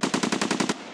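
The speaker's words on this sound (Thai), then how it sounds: "เฮ้ยยิงใหญ่เลย" Automatic gunfire in the video game Escape From Tarkov, a rapid burst of about eight loud, evenly spaced shots over under a second, ending in a brief echoing tail.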